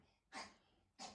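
A small dog with a suspected collapsed trachea gives two short, harsh coughs about half a second apart, faint and in the background of a quiet room.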